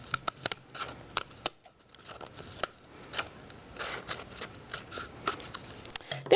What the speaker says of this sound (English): And then I'll trim this side.